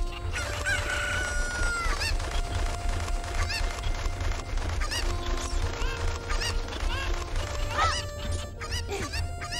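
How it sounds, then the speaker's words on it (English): Cuckoo chickens in The Legend of Zelda: Ocarina of Time crow and cluck in a dense, continuous flock, with repeated loud rooster-like calls over a busy game backdrop and no talking. "Thank you for finding my cuckoos."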